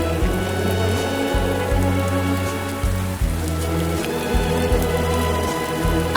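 Rain falls steadily as a constant patter under a rhythmic, bass-heavy music track in an animated Hindi moral story.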